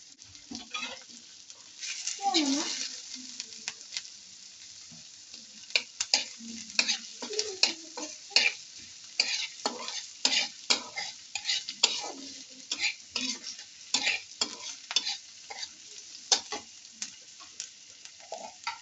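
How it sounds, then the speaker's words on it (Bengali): Onions fry in hot oil for a homemade potato dish, a steady sizzle broken by frequent scraping and clinking stirs of a spoon against the pan, close and fairly loud throughout, with no talking. "হ্যাঁ, এই যে তেল গরম হয়েছে, পেঁয়াজটা ভাইজা নিই।"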